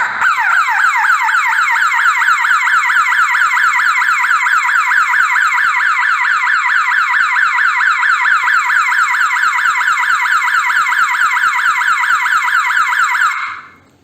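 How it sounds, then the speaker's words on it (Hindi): A loud electronic CCTV security alarm siren wails in rapid, repeating sweeping tones, close and continuous, then cuts off abruptly at the end. "देख सकते हैं कि सायरन एक्टिवेट हो चुका है"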